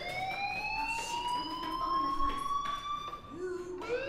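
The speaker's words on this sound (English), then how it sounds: "Hey, do you hear that fire alarm?" Fire alarm ringing inside a school building in the video game Life is Strange, a continuous rising electronic tone with steady harmonics, moderately loud, with faint background game sounds.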